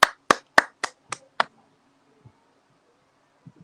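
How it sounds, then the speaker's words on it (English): A short run of six crisp hand claps at a festival closing ceremony, evenly spaced and close, fading out after about a second and a half and leaving near silence. "Please join us in welcoming Ms. Jessie Chin with a round of applause."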